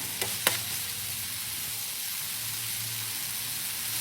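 Blended red chili stir-frying in a pan gives a soft, steady sizzle, with two sharp clicks of a utensil against the pan right at the start and a faint low hum underneath.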